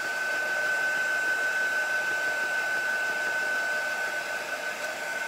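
A hair dryer blows steadily on wet chalk paint on a T-shirt with a vintage truck design: a constant, close, whining rush of air with an unbroken high tone running throughout.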